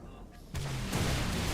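A fuel rod gun blast erupts in Halo: Reach Firefight, a sudden loud boom followed by a second heavy explosion rumbling on under a dense wash of battle noise.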